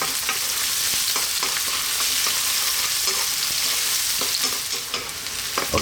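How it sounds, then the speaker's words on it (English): Chopped onions sizzle in hot oil for Ethiopian fasoliya tibs, with crisp frying crackle and repeated scraping stirs of a utensil in the pan, steady and close with no talking. "I'm going to drop in our onion or shinkut. I just want to cook these for about 3 to 4 minutes"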